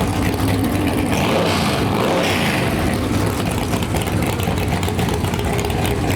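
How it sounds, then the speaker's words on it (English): Firebird no-prep drag cars idling at a drag strip, a continuous deep rumbling engine burble with slight rises in revs, steady and fairly close, with no talking. "Looks like we got some Firebirds coming along."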